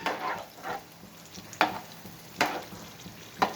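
Ajwain mirchi bajji fry in hot oil over high heat, giving a steady close sizzle with a few sharper crackling bursts and spatters, and no voices.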